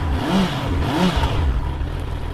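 A motorbike engine revs briefly as the rider turns, a short rising whir heard under the soundscape of a Hindi horror story; the tone is moderate in loudness and fades after about two seconds.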